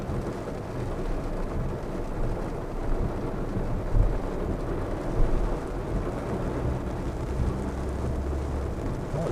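Heavy, belting rain pours down outside a window under blue skies, a dense continuous roar with occasional low rumbles, steady throughout and with no voices.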